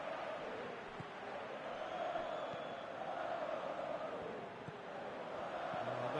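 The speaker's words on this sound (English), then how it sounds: "Crowd calling for him to shoot." A football stadium crowd in the PES 2019 video game roars in a sustained, distant-sounding wash of voices urging a shot, a steady swelling murmur with no clear commentary over it.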